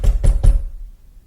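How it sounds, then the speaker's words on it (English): Three loud, close knocks sound on a wooden box in an even rhythm, each a hollow thud, followed by a short quiet decay. "He woke to loud knocking."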